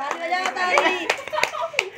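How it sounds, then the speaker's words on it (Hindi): Hands clap in a handful of sharp, irregular strikes at a home birthday celebration, close by and mixed under voices singing and talking. "अब ताली बजाओ"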